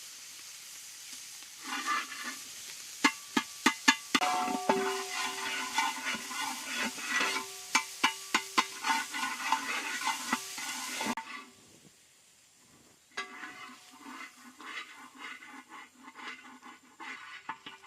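Spices being stirred in a pan for mutton kuzhi paniyaram, giving a steady run of scraping and clinking strokes with sharp taps over a low sizzle, then a pause and quieter stirring toward the end.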